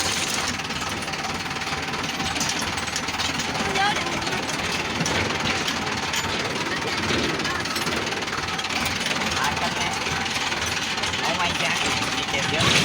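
A tractor engine rumbles and knocks steadily throughout, loud and close, with a rapid mechanical chatter and no pauses, on a farm in Gujarat.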